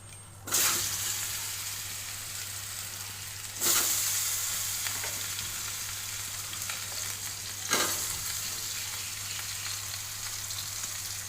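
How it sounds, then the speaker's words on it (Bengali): Potatoes fry with pointed gourd in a pan, a steady hiss of sizzling oil broken by three sharp bursts as food is added or stirred, close and moderately loud with no talking. "পটলটা ভেজে নিয়েছি একটু এবারে আমি আলুগুলো দেবো"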